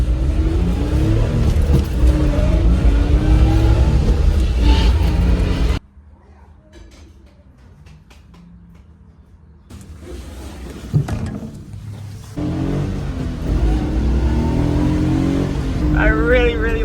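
Small one-seater Daihatsu Midget being driven, its engine rising and falling in pitch, with a quieter stretch midway before the motor noise returns. A voice is heard over the engine.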